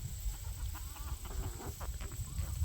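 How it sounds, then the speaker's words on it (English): Farmyard chickens, guinea fowl chicks and ducks gathered in a fenced enclosure, with soft continuous clucking and chirping close by over a low rumbling background, steady throughout without any talking. "Chickens, guinea babies, guinea birds, duckies."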